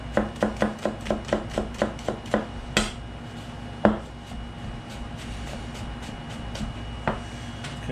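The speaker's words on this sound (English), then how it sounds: "So we have garlic, parsley, and shallots, and we're going to start by chopping these up." A knife chops garlic, parsley and shallots on a board, a fast run of about a dozen crisp, even knocks, then a few scattered single strikes further apart, close and clear with no talking.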